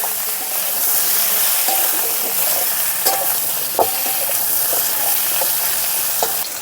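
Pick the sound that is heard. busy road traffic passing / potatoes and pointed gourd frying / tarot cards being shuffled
potatoes and pointed gourd frying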